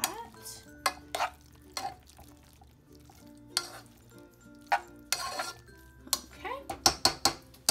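Tortellini sauce with ham being stirred in a pan until cheese melts; a spoon scrapes and clinks against the pot in irregular bursts, with soft gaps between strokes and a faint sizzle beneath.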